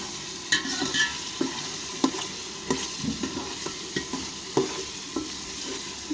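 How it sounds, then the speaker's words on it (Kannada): Onion and tomato fry in oil for biryani, with a continuous sizzle broken by regular stirring scrapes and light clanks against the pot, heard up close without any voices. "ಎಣ್ಣೆ ಹಾಕ್ಕೊಂಡು ಪಲಾವ್ ಐಟಮ್ ಹಾಕ್ಕೊಂಡಿದ್ದಾರೆ ಗೈಸ್ ಹಾಕ್ಕೊಂಡು ಈರುಳ್ಳಿ ಹಾಕ್ಕೊಂಡು ಟೊಮೊಟೊ ಹಾಕ್ಕೊಂಡಿದ್ದಾರೆ"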